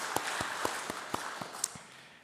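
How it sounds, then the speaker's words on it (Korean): A church congregation applauds the choir during a Sunday service: a short burst of scattered, fairly sparse claps that fades out within about two seconds. "우리 찬양대를 격려하는 박수를 한번 보내주시기를 바랍니다"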